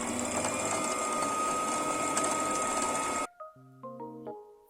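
A sewing machine stitching overlocked fabric pieces for a Kurung Pesak Gantung outfit, a loud continuous close-up whir for about three seconds that stops abruptly, followed by a few short electronic beeps.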